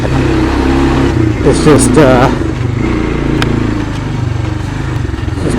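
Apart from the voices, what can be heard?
Honda Fourtrax 300 quad engine during test drive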